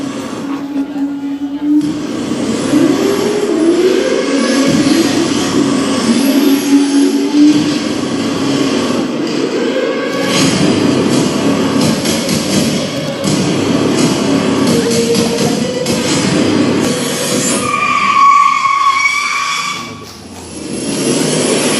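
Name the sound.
drift cars at Indonesia Drift Series event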